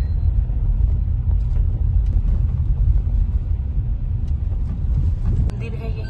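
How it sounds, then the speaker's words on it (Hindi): New car driving on a highway near Haldwani: a steady low road and engine rumble fills the interior throughout, loud and continuous, with a brief sharp click near the end. "तो कैसा लग रहा है फिर नई कार चलाते हुए?"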